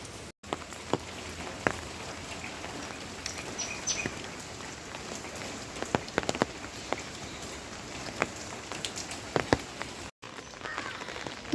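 Steady rain falls in Haridwar during a prolonged downpour, a soft even hiss with scattered sharper drips and taps close by, heard alone without voices.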